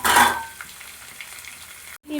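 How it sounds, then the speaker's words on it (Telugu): Chopped onions, curry leaves and green chillies drop into hot oil with a sharp burst of sizzling that quickly settles into a faint, low crackle, then cuts off briefly before a new sound starts. "ఆనియన్స్, కరివేపాకు, పచ్చిమిర్చి వేసుకొని ఈ విధంగా ఫ్రై చేసుకోవాలి"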